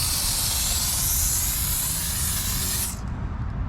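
A steady, close hiss of pre-foam soap (leftover W4) sprayed onto a car tire, broadband and continuous for about three seconds before cutting off, leaving a low background rumble.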